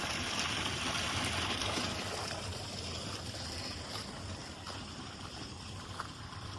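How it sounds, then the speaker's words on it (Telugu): Water running into a container on a farm to mix panchagavya, a steady rushing, bubbling flow heard close and continuous, with no voices. "పంచగవ్య కలపడానికి వాటర్ నింపుతాము"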